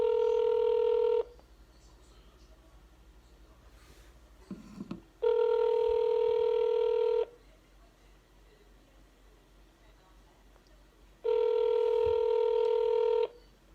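Keypad tones from a home landline telephone being dialed: three steady multi-tone beeps, each lasting one to two seconds, with quiet pauses between them and a brief faint rustle in one gap.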